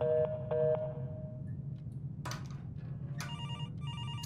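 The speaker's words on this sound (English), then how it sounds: "Phone is ringing." A telephone rings in a horror video game, starting with two clear electronic double rings and shifting to a warbling, patterned ringtone over a low, steady background hum.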